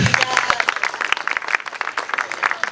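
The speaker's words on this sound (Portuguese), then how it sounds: "Uma salva de palmas para ela." Applause from the audience at a community celebration for African Women's Day: many hands clapping in a dense, steady patter that runs through the whole stretch, fairly close, with some crowd noise mixed in.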